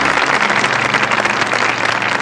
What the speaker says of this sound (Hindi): ज़ोरदार तालियों से सुरेश वाडकर जी का एक बार स्वागत कीजिए